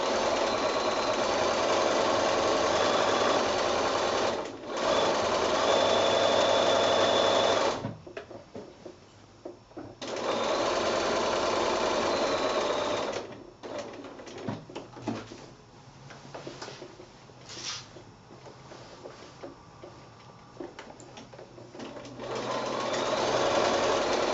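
A domestic sewing machine quilting along a seam of a Garden Path quilt, running in steady loud bursts with short pauses and quieter handling noises between them, close and alone.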